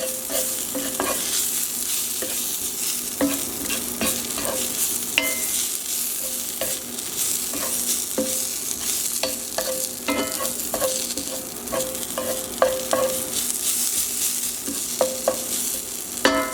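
A seasoned burger mixture with salt and pepper is being stirred together, giving a steady close hiss broken by frequent sharp clicks and scrapes in an irregular rhythm, with no talking.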